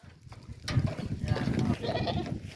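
Goats on a farm bleating and jostling as they are fed carrots by hand, a close, loud cluster of calls with a voice faintly underneath.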